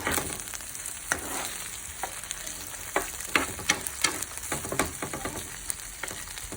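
Potatoes frying in a pan with crushed garlic, a steady hiss and crackle broken by sharper scraping clicks as the mixture is stirred, close and fairly loud with no voices.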